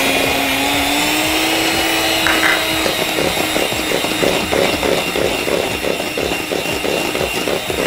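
Eggs being whisked into a butter and sugar mixture for sponge cake, heard as a loud, steady motor whine with a faint rhythmic beating pulse running through it.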